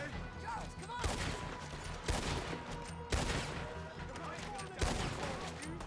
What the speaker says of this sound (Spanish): Son tiros para cubrirme.